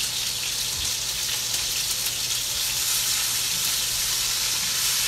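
Butter sizzles steadily in a hot pan alongside cross-rib steaks, a dense, even crackle that holds at constant loudness throughout with no voices over it.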